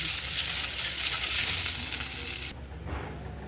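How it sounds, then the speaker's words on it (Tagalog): Margarine melting in a hot pan, a loud, dense, steady sizzle up close that drops suddenly to a quieter hiss near the end. "Unawin lang natin yung margarine."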